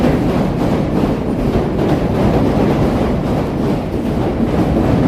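An elevated train in Chicago's Loop rolls past on Lake Street, a loud continuous rumble and rattle of wheels on steel track filling the whole stretch.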